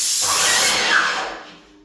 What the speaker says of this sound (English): Just going to spray a line like this down.